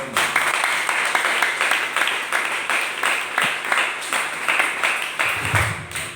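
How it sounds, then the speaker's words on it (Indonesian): Dense, continuous applause from a congregation fills a church during a Christmas celebration service, with steady overlapping claps for about six seconds before fading slightly at the end. "Tepuk tangan paling luar biasa."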